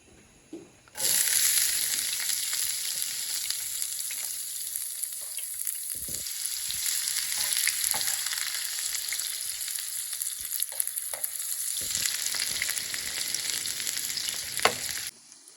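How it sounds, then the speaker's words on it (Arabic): Carrots, peas and vermicelli fry in hot oil for a quick Iraqi biryani. A loud sizzle starts abruptly and holds steady, with occasional stirring scrapes, and it cuts off near the end. "هسه راح نحمس الجزر بهذا الزيت، نحمس البازالية، الشعرية."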